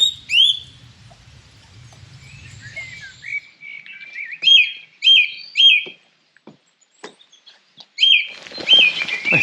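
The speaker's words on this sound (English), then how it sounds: "I think there may have been a beautiful song thrush." A song thrush sings on a Lake District fell, giving clear, loud repeated phrases with pauses between them, while other chirps and a low rumble sit faintly in the background.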